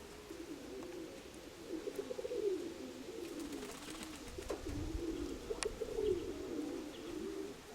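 Domestic pigeons, including a grey white-tailed bird, coo steadily in low, rolling calls that overlap throughout, with a few faint chirps and a sharp click partway through.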